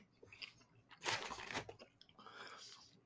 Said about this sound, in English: Do you like our chewing sounds in the mic?